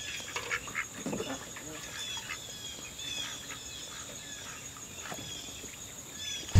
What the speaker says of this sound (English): There's a Muscovy right here walking by itself